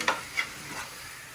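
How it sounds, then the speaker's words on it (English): Taco meat sizzles in a hot pan, a faint steady hiss broken by a couple of soft scraping stirs near the start, close but quiet. "you hear that noise. That means it's starting to get hot and cook. Yep. It's starting to sizzle."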